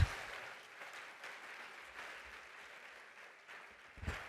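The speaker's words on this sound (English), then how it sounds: "please give Kimberly Brown another round of applause" A conference audience applauds, a faint, distant wash of clapping that holds steady before swelling slightly at the end.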